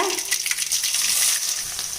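Loud, steady sizzling and crackling of garlic and mustard seeds frying in hot sesame oil, close up, with no talking.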